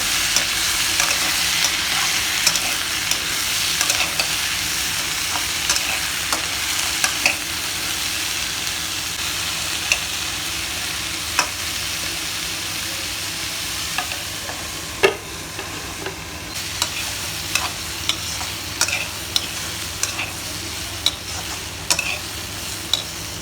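Chopped pumpkin stir-fried in a pan gives a steady loud sizzle, with scraping spatula strokes and occasional sharp clicks against the metal running throughout.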